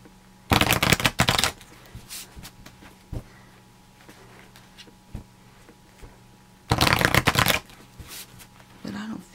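Tarot cards riffle-shuffled in a deck, two distinct bursts of crisp rapid flutter separated by a quieter pause, close and fairly loud over a low steady hum.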